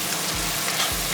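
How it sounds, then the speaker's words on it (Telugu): Fish curry masala of turmeric and chili frying in oil in a pan for a Bengali-style fish curry, a steady close sizzle with a couple of soft low thumps. "ఫ్రై చేస్తాము"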